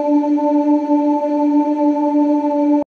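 A sustained, steady vocal-like drone holding a single pitch with a washy reverberant sheen, cutting off abruptly at the end.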